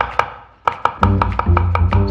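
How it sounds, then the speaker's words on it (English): Knife chopping a de-seeded cucumber on a board, a series of sharp, evenly spaced close taps, sparse at first then steady over a low background hum. "Then a cucumber, which he de-seeds before chopping."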